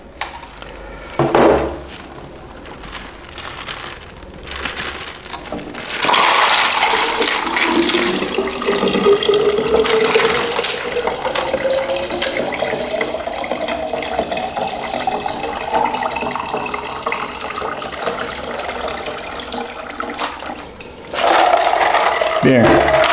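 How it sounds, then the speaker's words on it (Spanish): Ice-cold water poured into a glass during a Charles's law experiment, a steady filling sound with a pitch that climbs over about fifteen seconds, preceded by a brief clatter and followed by a short burst at the end. "vamos a pasar el agua helada a nuestro primer vaso"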